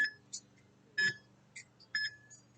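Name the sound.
workout interval timer beeping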